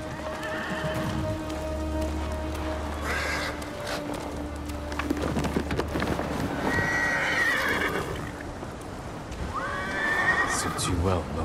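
A horse whinnies and snorts amid clopping hooves in Ghost of Tsushima, with rain pattering steadily in the background and music playing underneath.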